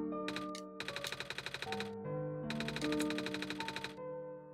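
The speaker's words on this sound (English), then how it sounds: "just the sound effects in this game. The menu sounds. The typing noise." Rapid mechanical typewriter-style clicking from the OneShot video game plays in two bursts over a sustained musical background, the keystrokes even and quick with a pause between runs.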